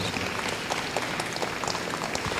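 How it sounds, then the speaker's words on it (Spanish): Congregation applauding during a religious talk on the Holy Rosary, a dense, steady wash of many hands clapping throughout, fairly distant and even with no voices over it. "Demos un fuerte aplauso a nuestra Santísima Madre, amados hermanos."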